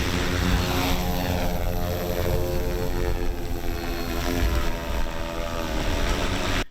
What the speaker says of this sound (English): drones can spray herbicide and attack acres upon acres of weeds